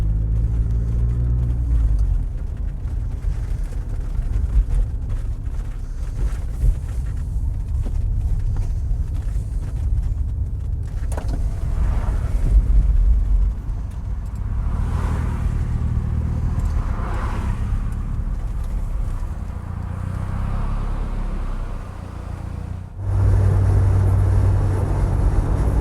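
A Ford Sierra Sapphire Cosworth 4x4 is heard from inside while driving near Bristol: a steady low engine and road drone runs throughout, with some swells in level and a sudden louder rumble near the end.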